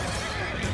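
A cavalry horse in the Total War: Three Kingdoms battle game lets out a short, loud whinny amid dense, noisy battle sound.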